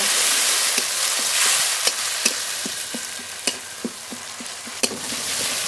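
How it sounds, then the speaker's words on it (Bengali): Ginger, green chilli, dried chilli and cumin-coriander paste sizzles steadily in a pan while a spoon stirs and scrapes in soft repeated knocks, close and continuous with no talking. "মশলা খুব ভালো করে কষিয়ে নেব।"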